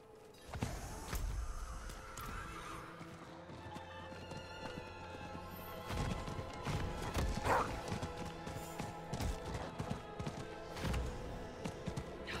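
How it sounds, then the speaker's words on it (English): In Diablo IV, a horse's hooves clip-clop in a steady, running rhythm amid busy game sound effects, the thuds dense and moderately loud throughout. "Sometimes you can use your horse to jump over these little ledges."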